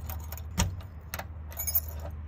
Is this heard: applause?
no